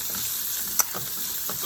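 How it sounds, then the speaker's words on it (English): Chopped jalapenos and sweet peppers of three colors saute in a hot pan, a steady close sizzle with faint stirring clicks and no talking. "So we're gonna saute this for about 1 minute"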